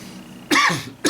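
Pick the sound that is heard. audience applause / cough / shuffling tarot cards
cough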